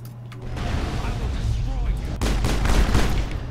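Sniper and battle gunfire from a Mass Effect fight on Noveria booms and crackles in dense, continuous bursts, with a louder volley near the end.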